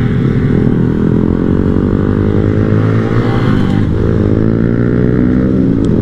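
A group of small-bore motorcycles rides together on a mountain route, the close engine rumble dense and loud, with a slight drop in revs partway through as the riders ease off.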